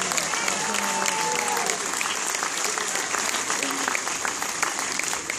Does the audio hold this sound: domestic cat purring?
no